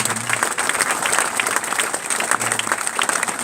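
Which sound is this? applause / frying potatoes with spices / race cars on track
applause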